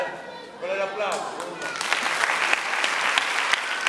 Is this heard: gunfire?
no